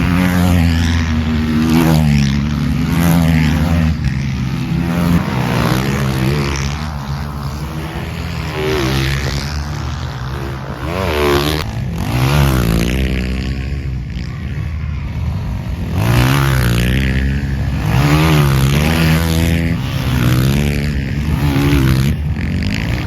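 Quad bikes roaring around the dirt track during the 2h30 Quaduro du Touquet endurance race, loud continuous engine drone with rising and falling revs as machines pass close by, no talk.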